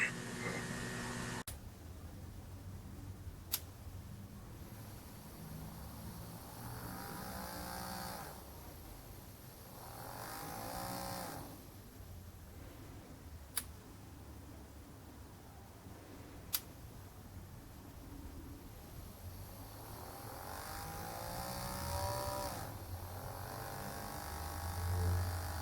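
A small DC motor on a PWM speed controller gives a steady, faint electric whirring hum throughout, with occasional sharp clicks and slow pulsing shifts in tone, no voices.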